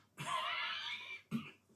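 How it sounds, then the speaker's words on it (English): A man's raspy coughing fit in Red Dead Redemption 2, one long harsh burst followed by a shorter cough, close and fairly loud. "Maybe I can help you with that cough."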